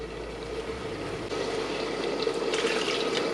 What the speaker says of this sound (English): what I can do is just add a little bit more water to this.